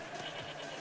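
A goat bleats briefly in the video game Payday 2, a short, faint, wavering call.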